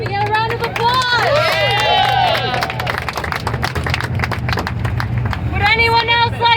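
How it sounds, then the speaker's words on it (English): Crowd applause and cheering at an outdoor pro-choice political rally outside a congressional office, steady clapping mixed with whoops and voices, loud and sustained throughout. "Can we get a round of applause?"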